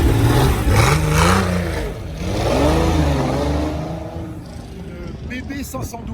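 A Ferrari 512 BB Berlinetta Boxer engine revs at a Paris street gathering, rising and falling in pitch over a steady rumble, with people talking nearby.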